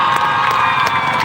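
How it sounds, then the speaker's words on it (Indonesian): A crowd at a workers' street demonstration cheers and shouts in a short, loud burst, with excited voices overlapping close by. "tepuk tangan."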